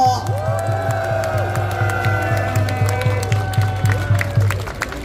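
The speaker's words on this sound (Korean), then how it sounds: "서로 박수하고 응원하고 환호해 주시기 바랍니다" A crowd at an outdoor political rally claps and cheers steadily throughout, a dense wash of applause with voices mixed in over a constant low drone.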